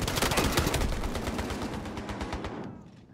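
Rapid submachine gun fire in the multiplayer shooter Battlefield Hardline, a dense string of close, loud shots with no talk, tapering into quiet near the end.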